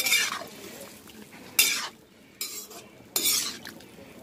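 Cornflour mixture being stirred into chilli chicken gravy in a pan, several scraping strokes of a utensil against the pan in irregular bursts over a faint sizzle.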